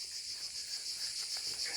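Cicadas sing in a dense, steady, shimmering drone outdoors near a ghost village on the Camino de Santiago pilgrimage route, continuous and fairly loud with no voices.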